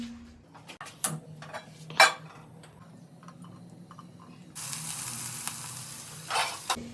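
Tomatoes frying in a tempering for a leafy greens curry give off a gentle sizzle, broken by sharp clinks of a utensil against the pan, and the frying grows louder partway through.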